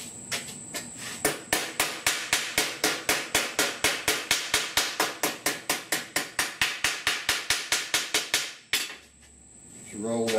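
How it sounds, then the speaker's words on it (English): A planishing hammer rapidly strikes sheet metal being shaped into custom A/C dash vents, a long steady run of about thirty sharp, ringing metallic blows at an even rhythm, close and loud, ending with brief shuffling. "Let me hit this with a hammer again."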